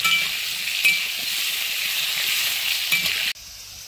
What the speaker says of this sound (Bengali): আলু আমাদের ভাজা হয়ে গেছে